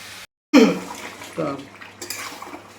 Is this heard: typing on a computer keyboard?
no